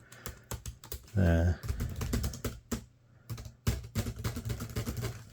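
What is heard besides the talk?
typing on a Dell D630 laptop keyboard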